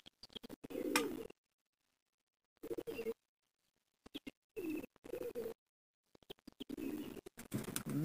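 Domestic pigeons of the western chhapga and fulsira breeds coo close by in several short, throaty bursts separated by quiet pauses, with faint scratching between calls.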